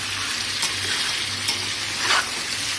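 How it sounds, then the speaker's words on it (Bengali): Chicken pieces and potatoes fry together in hot oil, giving a continuous sizzle with faint stirring scrapes and small crackling bursts, with no talking. "একসাথেই ভেজে নিচ্ছি মুরগি আলু"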